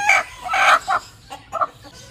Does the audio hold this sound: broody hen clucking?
yes